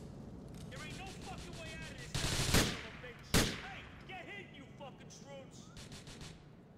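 Two loud gunshots ring out in GTA IV, sharp and close, spaced about a second apart over a dense bed of game ambience and faint background noise.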